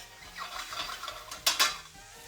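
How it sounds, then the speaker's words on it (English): A utensil clatters and scrapes against a pan where bacon is frying until crisp, a short run of stirring with a soft sizzle beneath and two sharp knocks near the end. "get the bacon nice and crispy"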